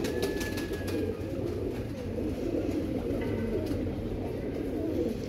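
A Bichu breed pigeon coos in soft, repeated low throaty phrases close by, steady and fairly quiet, with faint background hum and a brief distant chirp.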